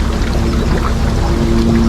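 Water trickles from a limu tank back into a Hawaiian fishpond in Honolulu, a continuous close, loud wash of pouring water with a faint steady hum beneath it.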